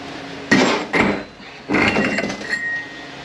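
A stator being pressed out of a Ford 6R80 transmission produces a few sharp metallic clanks and scraping bursts, close and separated by short pauses, ending in a thin ringing tone.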